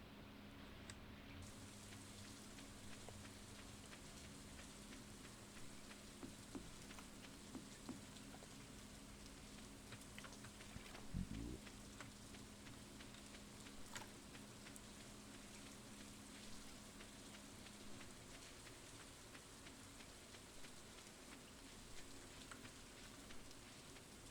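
Steady rain hisses softly and evenly throughout a farm scene in Stardew Valley Expanded, a faint continuous patter with a low ambient hum and a brief scrape midway, no voices.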